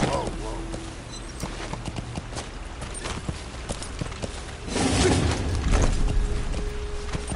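Horse hooves clip-clop at a rapid gallop in Metal Gear Solid V: The Phantom Pain, a steady rhythmic patter of game audio that grows louder and busier toward the end, with a voice talking over it.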